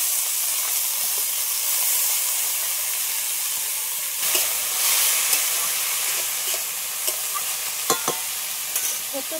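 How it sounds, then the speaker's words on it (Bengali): Shrimp fry in a hot pan with a steady, close sizzling hiss. A few soft stirring clicks and scrapes sound near the end, and no one speaks. "দিয়ে দিচ্ছি এই চিংড়ি মাছ ভাজার মধ্যে"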